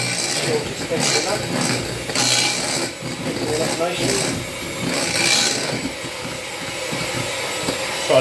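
Meringue for a lemon meringue pie being whisked, a continuous close mechanical whir with rubbing, scraping variations, while someone talks over it.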